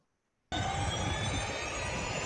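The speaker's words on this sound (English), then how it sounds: "he owns this EC-120 Airbus helicopter. And I will play for you the footage of how this thing worked" Footage of an Airbus EC-120 helicopter: after half a second of silence, a loud, steady turbine roar with a constant high whine starts abruptly and holds unbroken to the end, no talk over it.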